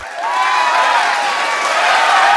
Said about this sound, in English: No need for the applause.